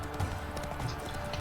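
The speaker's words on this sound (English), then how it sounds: "Hoofs pounds the ground." A horse's hooves pound the ground in a quick, steady clip-clop during a tourney event, heard briefly under a busy background.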